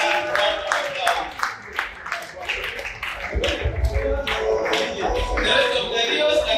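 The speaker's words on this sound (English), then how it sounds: "Give her another round of applause." Applause at a formal installation dinner for cabinet, district and LEO officers, many hands clapping steadily across the room with voices mixed in.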